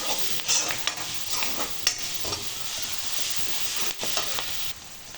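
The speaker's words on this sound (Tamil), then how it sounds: "இப்போ இஞ்சி பூண்டு, பிரியாணி மசாலா நல்லா வதங்கட்டும்." Ginger, garlic and biryani masala fry with onions in a pan, giving a steady close sizzle broken by a few scraping stirs, with no talking.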